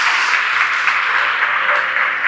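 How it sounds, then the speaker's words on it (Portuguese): A church congregation applauds during a sermon, a steady, dense wash of many hands clapping together, loud and unbroken throughout with no distinct individual claps. "Aplauda o Senhor por isso."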